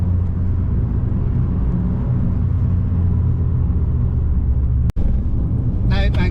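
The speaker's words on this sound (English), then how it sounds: "Now it makes a bit more sense with the gearbox noise." A Fiat 500 with a slipping clutch drives along with a dense, steady rumbling drone of engine and gearbox, broken by a sharp brief click near the end, followed by a voice talking.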